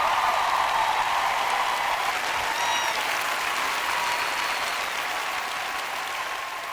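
Sustained loud applause from a large church congregation, steady throughout and slowly tapering at the end.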